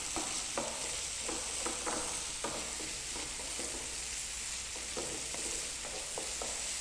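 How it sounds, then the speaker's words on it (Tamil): A tempering fries in a pan for a South Indian greens dish, giving a constant loud sizzle with a few soft scraping stirs rising out of it and no voice. "நல்லா ஃப்ரை ஆகுது பாருங்கள்."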